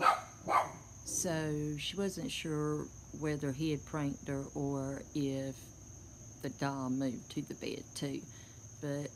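A dog barks in short bursts of several yelps in the background while someone talks over them; a constant high insect-like whine runs throughout.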